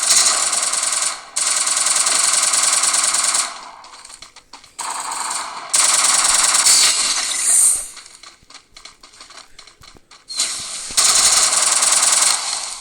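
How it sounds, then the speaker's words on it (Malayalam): Automatic gunfire from the video game Free Fire rattles in long loud bursts separated by short pauses, rapid and continuous, with quieter gaps between volleys. "എനിക്ക് മര്യാദയ്ക്ക് വെടി പോലും വെക്കാൻ പറ്റുന്നില്ല"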